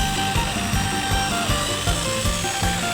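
A power drill bores into a small plastic gallon container, giving a steady, grinding whir with regular rhythmic pulses roughly three times a second. The sound is continuous, moderately loud and close, with no talking.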